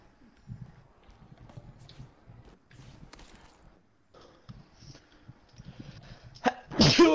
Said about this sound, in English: Sneezing all day.